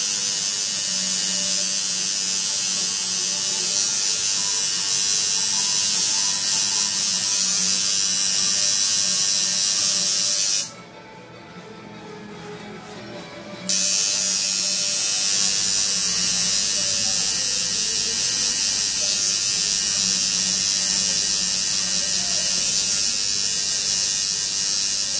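A tattoo machine buzzes steadily while shading skin with a fanned needle, a close, continuous electric hum that stops briefly for a few seconds and then resumes.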